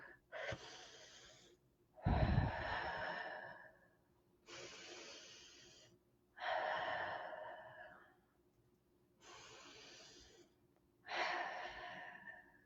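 Six slow, deep breaths taken while inhaling sage smoke during a ritual, with each long airy inhale or exhale rising and fading in a steady rhythm, close and quiet, with no talk.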